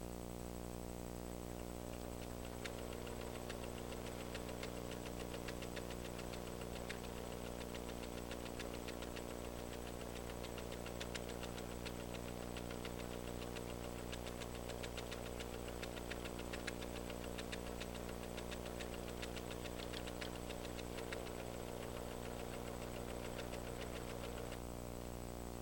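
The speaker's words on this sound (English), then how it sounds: "Now let's sew." A PFAFF creative 7570 sewing machine stitching with decorative ribbon thread in the bobbin, a steady fast mechanical whir with a fine rapid ticking running evenly throughout, no talking.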